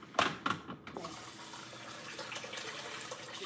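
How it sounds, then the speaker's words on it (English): Tap water runs into a cooking pot for rice, starting with a few sharp splashes and then settling into a steady, even gush of filling water, close by with no talk. "And I'm going to use some water."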